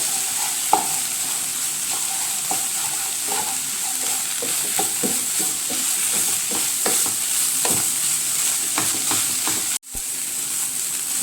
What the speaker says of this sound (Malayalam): ഇനി എല്ലാം കൂടെ നന്നായിട്ട് ഇളക്കി യോജിപ്പിക്കുക.